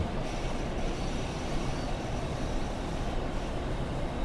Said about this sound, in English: It sounds like a Metro North train.